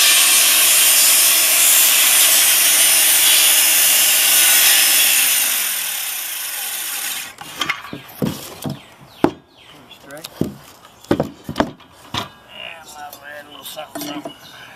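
A saw cutting lumber for a deck, giving a loud steady rasping roar for about seven seconds that stops abruptly, followed by scattered knocks, handling clatter and voices.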